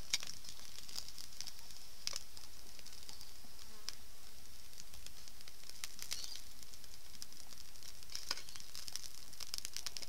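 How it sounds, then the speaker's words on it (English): Sausages and potatoes sizzle in a pan over a gentle fire on a Rocket woodgas stove, giving a steady, close hiss with scattered crackles and pops throughout. "So I'm just going to add the sausages to the potatoes for the moment."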